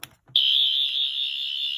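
A Fourteenth Doctor sonic screwdriver toy on its green setting lets out a piercing, steady high-pitched electronic tone after a couple of short clicks, loud and close, holding without a break.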